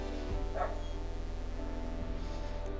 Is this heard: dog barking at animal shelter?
yes